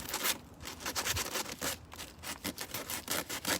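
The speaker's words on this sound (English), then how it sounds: "We are sanding a table." Hand sanding on a wooden table, a quiet rapid series of rough scraping strokes in an uneven back-and-forth rhythm, close by with no talking.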